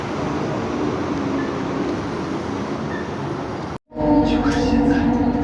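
Steady rumbling and rushing of a moving MRT train in Malaysia heard from inside a carriage, with a brief cut and faint voices under the noise.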